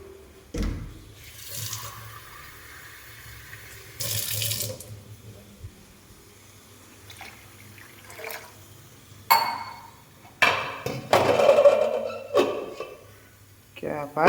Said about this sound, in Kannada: ಎಷ್ಟು ಬೇಕೋ ಅಷ್ಟು ನೀರು ಹಾಕ್ಕೊಬೇಕು.